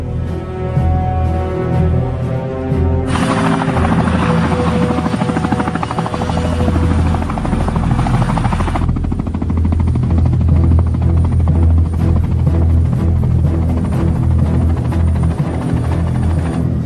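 A helicopter in a Spanish-language action film scene roars loudly and continuously, its rotor throb and engine whine steady and close throughout, with no talking.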